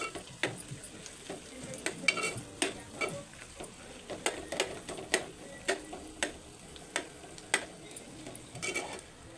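Potato curry for puri being stirred in a pan, with a regular series of sharp spoon scrapes and taps against the metal over a soft simmering sizzle, close and fairly quiet.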